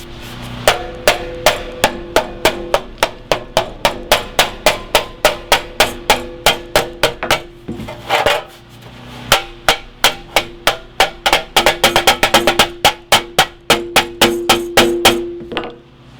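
A hammer strikes metal while forging a whale-shaped weather vane, giving steady ringing clangs in a rhythmic series with a brief pause, then a faster burst of blows, close and alone.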